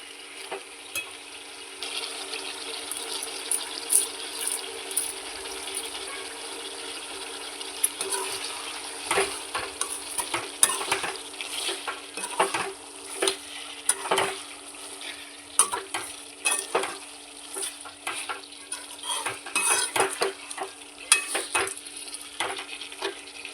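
A pot of chicken gravy being stirred and left to cook, with irregular scraping and clattering spoon strokes over a constant bubbling sizzle, close and fairly loud throughout.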